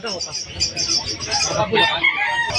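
A rooster and hen at a pet market in Malabon, with loud, close clucking and crowing-like calls and busy chirping in the background throughout.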